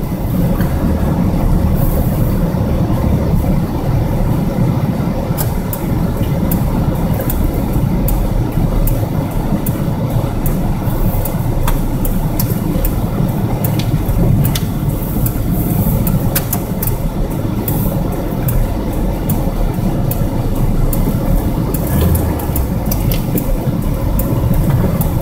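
Engine of a vehicle being shifted without the clutch by floating the gears, a steady loud rumbling drone with a low heavy tone throughout and no talk.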